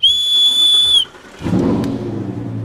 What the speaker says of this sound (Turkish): Bir düdük alalım biz.